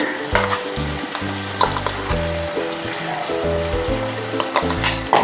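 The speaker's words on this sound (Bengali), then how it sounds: "ভাজা ভাজা করব" Onion fries in oil with poppy seed and sesame paste, a close, steady sizzle with repeated scraping stir strokes and clatters, no talking.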